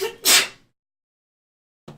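A single sharp sneeze bursts out close by, followed by silence and a brief faint sound at the end.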